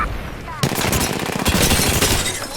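Rapid automatic gunfire and shots crack out in an Apex Legends battle, loud and close after a short quieter lead-in, with bursts overlapping densely.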